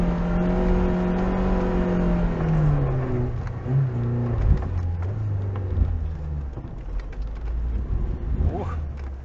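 Lada Niva 4x4 engine pulling hard in first gear of the high range, its loud nearby note sliding steadily downward as the car moves off and the sound fades away, with outdoor noise behind it.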